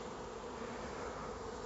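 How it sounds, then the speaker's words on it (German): About a kilo of honeybees being added to a hive as reinforcement, filling the air with a steady dense buzzing hum, close and continuous, with no talk. "Also wird es jetzt ein gutes Kilo sein an Bienen, das ich hier einsetze"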